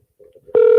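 An outgoing telephone call starts ringing: after a brief near-silence with faint murmurs, a loud, steady ringback tone begins abruptly and continues to the end.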